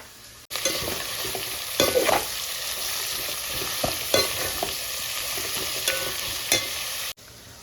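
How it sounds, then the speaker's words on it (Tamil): Onions and green chilies sautéing in oil in a pan for seeraga samba biryani: a steady close sizzle with occasional stirring scrapes, starting and stopping abruptly, no voices. "ஆனியன் வதங்குற டைமில்"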